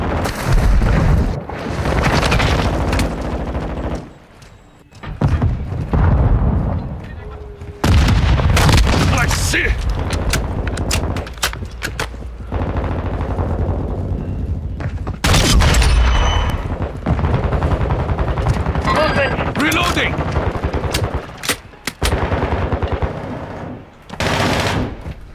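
Heavy gunfire and booming explosions in the video game Modern Warfare 2, with sustained bursts of automatic fire and blasts, loud and dense for most of the span, and voices calling out over the battle.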